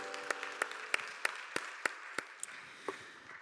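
Sparse, separate claps from a congregation at a Korean church young adults' Sunday service ring out one at a time in an irregular rhythm. They are fairly close and clear, with no talk.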